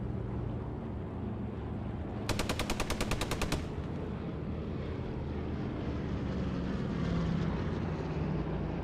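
Automatic machine gun fire in a realism-event military shooter game: one rapid burst of a dozen or so evenly spaced shots, loud over a constant rumble of wind and engine-like ambience.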